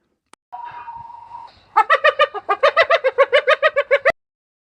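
Cartoon chickens cluck in a quick, loud, rhythmic run of about a dozen squawking calls, preceded by a brief higher bird-like tone, with no talking.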